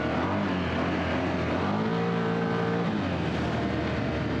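A Can-Am Outlander X MR 850 ATV engine holds a loud, steady roar close by, with the pitch dipping and rising as it drifts through woods.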